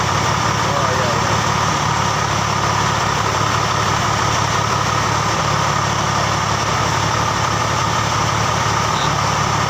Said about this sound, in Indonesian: itu kita dengerin suara mesin sama pemakaian bahan bakarnya